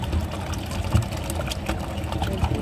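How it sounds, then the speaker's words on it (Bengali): Rainwater from a sudden morning downpour drains steadily off a flooded rooftop, with a continuous close gurgling and trickling rush that holds at an even level throughout. "পানিটা যাচ্ছে"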